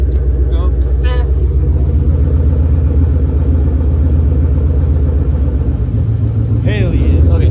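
A Fox Body car's engine runs steadily with a deep, constant rumble as it is shifted up into fifth gear, with brief voices heard over the engine noise.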